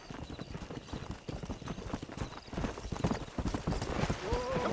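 Horse hooves clip-clop steadily in the video game Red Dead Redemption, a brisk repeated beat of hoofsteps at moderate volume, joined by faint voices and a short whinny-like sound near the end.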